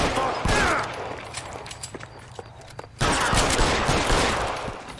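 Gunfire rattles in dense, loud bursts during a shootout in the L.A. Noire video game, with a quieter stretch of scattered shots in between before another heavy volley.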